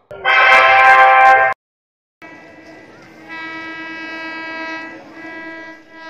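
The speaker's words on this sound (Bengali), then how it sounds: "গ্যালোপিন লোকাল সুভাষগ্রাম স্টেশনের ওপর দিয়ে দ্রুত গতিতে চলে যাচ্ছে" A galloping local train races through Subhashgram station without stopping, sounding a loud, sharp horn blast before a gap. A long, steady harmonic horn and rumble follow as it passes nearby.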